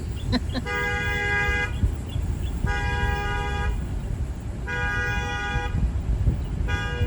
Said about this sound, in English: somebody's car horn is going off